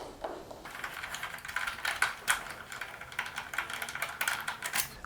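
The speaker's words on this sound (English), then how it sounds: "remove the four fasteners holding the fender assembly on. Do that now." Fender fasteners being worked loose on a Honda CBR 600RR (2013-2019 model): faint, close ticking and ratcheting clicks in a quick irregular patter, with no talk.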